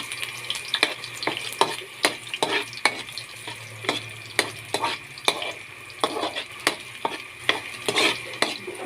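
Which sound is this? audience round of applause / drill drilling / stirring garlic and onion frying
stirring garlic and onion frying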